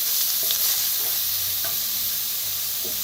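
Curry leaves and ground spice paste roasting in a little oil for vada pav, a steady close sizzle with occasional stirring scrapes of a spoon against the pan.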